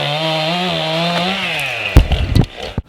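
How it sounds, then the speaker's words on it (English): A chainsaw at a training class for certified disaster-response operators, running as a loud, steady high-revving drone that drops off near the end into a few heavy thumps and knocks. "I'm training guys on proper ways to operate a chainsaw"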